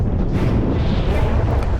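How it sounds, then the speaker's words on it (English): Strong southeast wind buffets the microphone on a sheltered bay beach, a loud continuous low roar with no pauses, gusty enough to shift sea kayaks across the sand. "The wind was so strong it was blowing the boats around on the sand as we packed."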